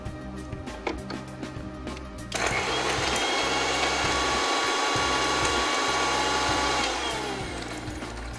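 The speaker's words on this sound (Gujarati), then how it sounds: "એકદમ મોટો ટુકડો લઈએ છે એને ગ્રાઇન્ડ કરી લઈશું" A mixer grinder starts up about two seconds in and runs loud and steady, coarsely grinding a large piece of cinnamon, then eases down near the end. Faint kitchen clatter comes before it starts.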